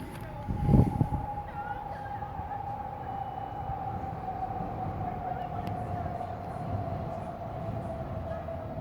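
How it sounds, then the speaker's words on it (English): A train rumbles past with a sustained horn-like tone and steady rolling noise, loud and continuous for several seconds, used as a comedic sound-effect break with no talking. "One final train / applause break."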